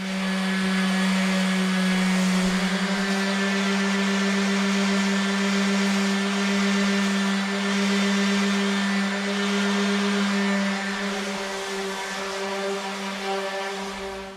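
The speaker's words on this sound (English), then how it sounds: "So I'll very lightly sand that, get that off of there, and then make everything nice and smooth" Electric sander smoothing wooden drawer boards for pantry storage, a loud steady motor whine with a constant drone that runs unbroken and close, with no talking.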